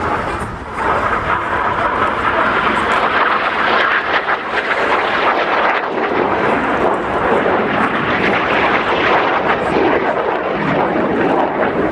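Jet aircraft roaring overhead at the Royal International Air Tattoo airshow, a loud, steady broadband rumble and whoosh filling the whole stretch, with no speech over it.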